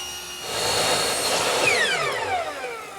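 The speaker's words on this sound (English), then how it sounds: "Here I have a cove bit installed. I'll run one edge and then rip a piece on the table saw." A router fitted with a cove bit cuts along the edge of a wood molding strip, giving a steady, loud high-pitched whine with a rising cutting pitch that holds over three seconds.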